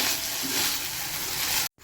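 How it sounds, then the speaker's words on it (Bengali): Chicken for chilli chicken maggi fries in a pan with onion and tomato sauce while being stirred, giving a steady, loud, close sizzle that cuts off abruptly near the end. "ভালো করে চিকেনটার সাথে মিশিয়ে নিচ্ছি।"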